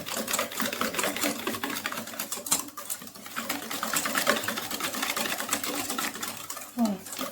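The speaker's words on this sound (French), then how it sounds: "on rajoute le sucre et on va venir mélanger" Sugar is being mixed into the batter for a pear almond tart, heard as steady, rapid machine-like whirring close by, running throughout under French talk.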